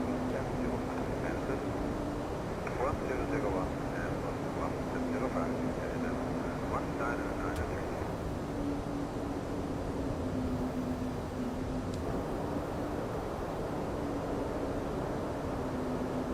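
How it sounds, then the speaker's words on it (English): A Toliss A320neo airliner in X-Plane 12 hums with a steady broadband engine roar and a low droning tone during descent, while someone talks over it throughout. "Those engine sounds are just phenomenal."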